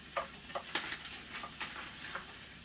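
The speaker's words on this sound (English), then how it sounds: "Watch me talk and burn my hamburger." A hamburger fries in a pan on a home stove, a faint steady sizzle broken by soft scraping and clicking of a utensil at irregular intervals.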